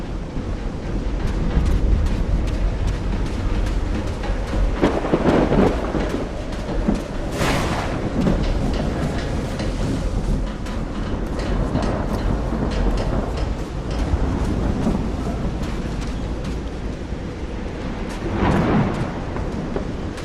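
A thunderstorm in the Call of the Sea video game: a dense, steady roar of rain and wind with deep rumbles swelling several times, all loud and continuous, with no voices.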